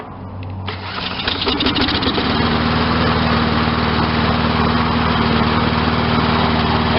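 A lawn mower engine, just started with a shot of starting fluid in the carburetor, settles into a steady high-pitched run as it warms up. Loud and close, a continuous drone with no voices.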